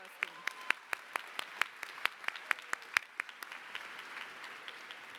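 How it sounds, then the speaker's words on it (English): A commencement audience at a dental school ceremony claps in a brisk, rhythmic stream of distinct claps that gradually thins and fades toward the end. "Let's give him a round of applause."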